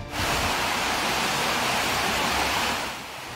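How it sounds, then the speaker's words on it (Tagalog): Floodwater rushing through Nivel Hills in Cebu City after heavy monsoon rain, a loud, steady broadband roar of churning water that holds strong before easing slightly near the end. "kuha ni News Cooper Daisy Salyot Manyalag, kita ang pagragasa ng tubig baha sa Nivel Hills sa Cebu City"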